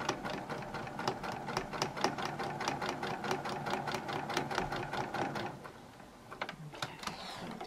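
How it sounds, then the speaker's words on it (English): Close, steady stitching of a sewing machine running a quarter-inch seam on a fabric strip, an even rapid needle rhythm for over five seconds before stopping, followed by light handling clatter. "So my what I need to do is just sew this strip to this piece."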